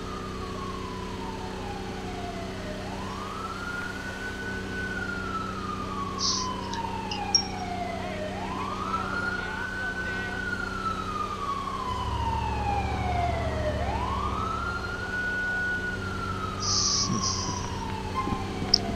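Sirens wail from an arriving ambulance in the police video game LCPD:FR, rising and falling in slow repeated sweeps over a low engine hum, with brief horn-like blasts near the end and no talking.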